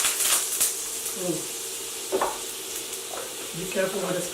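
Seabass frying in hot olive oil and butter, a steady crackling sizzle with bursts of spattering, joined by a few scraping stirs and light clinks of a pan and utensil close by.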